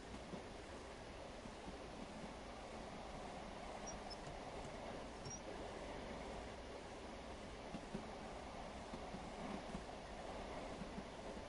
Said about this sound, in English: We'll just ease the train out of the station because we're going straight into a 30-mile-an-hour zone.